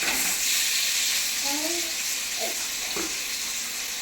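Roasted coconut and jaggery-cooked jackfruit hiss and sizzle loudly in a hot pan as they are stirred, a steady close frying noise that persists throughout.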